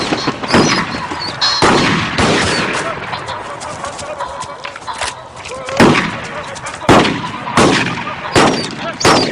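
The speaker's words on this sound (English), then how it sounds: "Good shot, Charles." Repeated gunshots crack out at an outdoor shooting party, sharp loud bangs spaced a second or two apart, with people talking between and under the shots.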